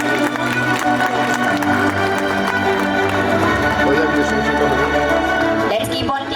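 Parents applauding at a school fest prize ceremony at Army Pre Primary School Bengdubi: steady, dense crowd clapping with an amplified announcer's voice over it and a sharp burst near the end.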